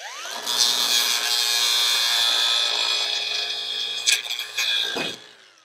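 A power cutting tool slices off a tack weld on a 1940s Chevy chop-top sail panel, spinning up to a high steady whine, grinding for a few seconds, then stuttering through rough bites before winding down.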